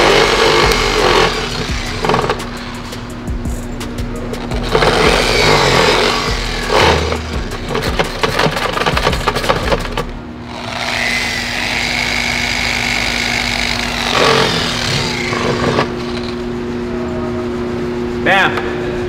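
A Lake Country pad washer spins a detailing polishing pad, a steady motor whir with splashing and rattling bursts, stopping and restarting, and someone talks over it throughout.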